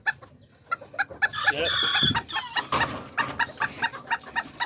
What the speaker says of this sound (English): that little tiny kikiriki rooster